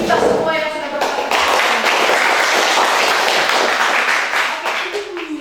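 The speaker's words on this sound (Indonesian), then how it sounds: "Mari kita beri tepuk tangan untuk kita semua yang sudah berpartisipasi." Audience applause for participants in a classroom session: a full, steady round of clapping from a group that carries loudly for several seconds, with a voice heard briefly at the start and again as it dies down.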